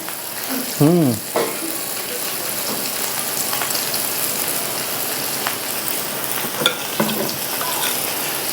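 Vanjaram fish fries in a pan on a portable gas stove, with a steady close crackling sizzle running throughout and a brief voice near the start.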